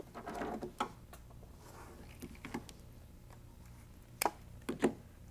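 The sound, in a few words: serger sewing quilt binding corner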